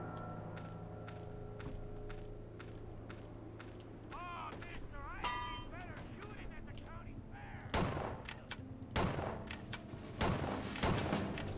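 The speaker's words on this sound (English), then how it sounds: "God, this sniper's so good." A few sharp sniper rifle shots in the western shooter game Outlaws, loud cracking reports spaced out near the end, preceded by quieter game ambience and a brief voice.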